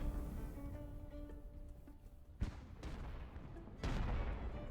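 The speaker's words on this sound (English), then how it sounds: "I'm going to let the artillery soften them up a little bit first." Artillery fire in the naval battle game Ultimate Admiral: Age of Sail, a few distant cannon booms landing at intervals over a low rumbling battle background.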